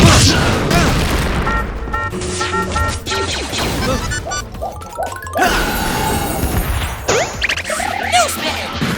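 Spell-casting effects from a Harry Potter video game crash and boom in a rapid series of bursts and whooshes, with shouted character voices over the top.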